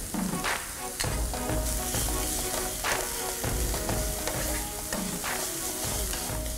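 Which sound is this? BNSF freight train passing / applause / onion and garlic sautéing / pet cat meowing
onion and garlic sautéing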